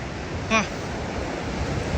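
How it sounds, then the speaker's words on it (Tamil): Strong ocean waves crash onto a beach on a foggy morning. Their roar is a continuous, dense rush, loud and unbroken, with a brief faint tonal blip near the start. "அலை வந்து பயங்கர ஆக்ரோஷமாக வந்துட்டு இருந்து"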